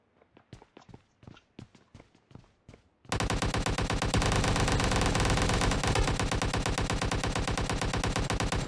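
Heavy gunfire in the PUBG battle royale game: a few scattered shots with footsteps, then a dense, continuous automatic burst that stays loud and close to the end.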